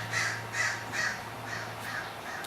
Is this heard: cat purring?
no